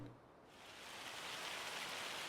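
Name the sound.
hail falling in the video game Farming Simulator 25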